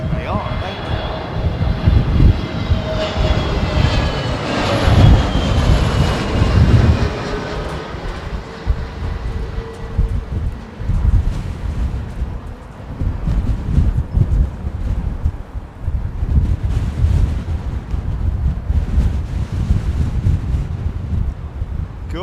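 An airliner lands on a windy Heathrow runway, its engine roar a broad, loud rumble that swells and then fades into a long, gusty wash of noise, with people talking over it.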